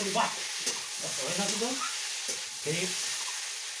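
Young jackfruit fries and is stirred in a pan, cooked mutton-style: a steady close sizzle with hiss runs throughout, partly under someone talking.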